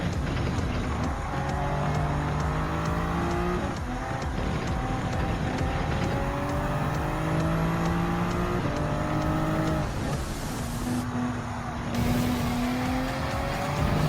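In Gran Turismo 7, racing car engines roar while overtaking a Hyundai Genesis, rising through the gears in repeated climbing whines, with loud continuous engine noise and a shift in tone near the end.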